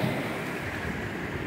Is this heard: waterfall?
yes